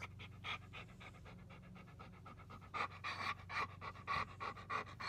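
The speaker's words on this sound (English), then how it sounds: "I don't know. You're a dog." A dog pants rapidly and close by in quick rhythmic bursts that grow louder and more pronounced partway through, with a low steady hum of background noise beneath.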